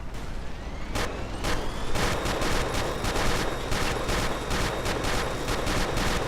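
Dense, rapid gunfire in the video game Ace of Spades crackles nonstop, overlapping bursts and single shots layered like a chaotic firefight, loud and close with booming echoes.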